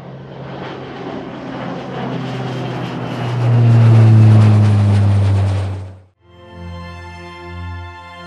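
A Frontier Airlines Airbus A321 arriving to land at Las Vegas: a loud, steady jet roar swells to a peak, then cuts off abruptly into a lower, even mechanical hum.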